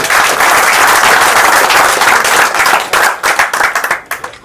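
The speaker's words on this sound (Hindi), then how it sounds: "जोरदार तालियों से।" Loud, dense audience applause at a jewellery shop opening, a sustained wall of clapping that thins into scattered individual claps and stops near the end.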